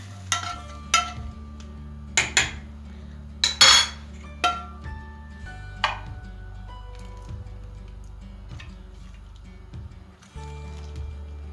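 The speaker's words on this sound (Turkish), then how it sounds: "İçerisine şimdi sosumuzu aktarıyorum." Onion and tomato paste sauce is scraped into a cooking pot, with a string of sharp metallic clinks and taps of a spoon against the pot and soft squishy scraping between them, close up and with no talking.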